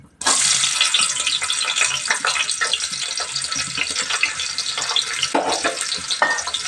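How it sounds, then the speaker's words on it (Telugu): Chopped onions dropped into two spoons of hot oil, bursting into a loud, close hiss that holds steady as a dense frying sizzle, with occasional stirring scrapes and small pops, no voices. "నూనె అయితే కాగిందండి ఉల్లిపాయలు అయితే వేసేద్దాం ఫ్రెండ్స్"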